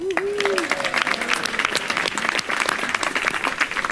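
Loud, steady applause from a crowd, dense clapping throughout with a brief voice near the start.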